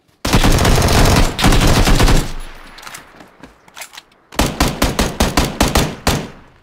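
Gunfire in PlayerUnknown's Battlegrounds: a long, loud, continuous burst of shots, a brief lull with scattered pops, then a rapid rhythmic volley of close shots.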